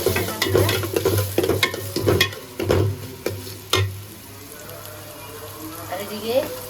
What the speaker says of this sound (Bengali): গরু গোস্তের জন্য একটু সুন্দর করে ভাজা ভাজা করি